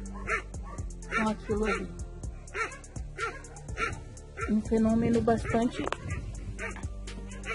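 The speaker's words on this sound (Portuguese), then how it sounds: "E os cachorros estão muito agitados" Restless dogs bark and yip repeatedly in bursts at an outdoor rural spot as a storm approaches, the barking mixed under someone talking steadily throughout.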